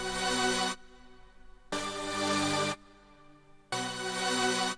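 A bright, buzzy synth lead plays three sustained notes in turn through a Black Hole reverb, each followed by a soft, washy reverb tail filling the gaps.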